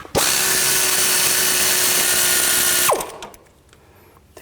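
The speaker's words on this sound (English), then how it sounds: "I'm going to use a 14mm wrench underneath and a 14mm socket on top" A power tool whirs steadily for about three seconds while spinning the 14mm sway bar link nut off a 2007-2014 GMC Sierra 3500 HD, then winds down to quiet clicks of the socket and parts.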